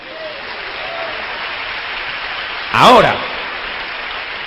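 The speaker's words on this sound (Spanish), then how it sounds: "Den un aplauso al Señor." A church congregation applauds steadily through the whole stretch, a dense wash of clapping with a short voice rising over it near the end.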